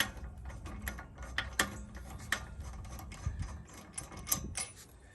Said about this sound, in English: Now we're going to remove the wheel. This is a 21mm socket.